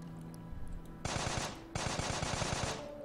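Rapid automatic gunfire in the parody shooter Gabe Newell Simulator 2.0, two bursts of fast, evenly spaced shots, fairly close and clear, separated by a brief pause.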